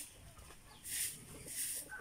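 Chickens clucking nearby in short bursts, a couple of louder squawky clucks over a low farmyard background, no talking.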